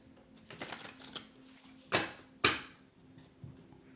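Tarot cards being shuffled indoors, a soft papery riffle near the start and two sharp snapping card bursts midway, followed by a fainter flick near the end, with no talking.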